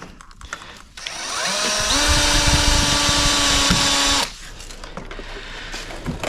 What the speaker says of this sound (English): I am going to add an extra couple screws in the front here.